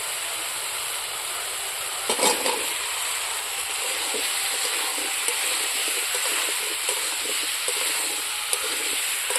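Taro frying in a spice paste, a steady broadband sizzle with faint stirring clatter, one brief louder burst of scraping near the start, no talking.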